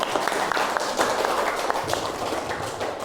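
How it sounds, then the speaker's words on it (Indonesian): Classroom audience clapping together, a busy patter of hands with a few sharper claps standing out, steady for about three seconds at moderate loudness. "Sekali lagi tepuk tangan untuk kita semua."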